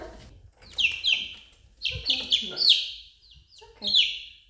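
Americana chickens cluck and squawk close by in a series of loud, uneven calls with short pauses between them.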